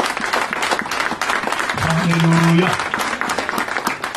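A church congregation claps in applause during a French-language sermon, a dense, steady wash of hands, with a voice singing a short sustained acclamation over it midway.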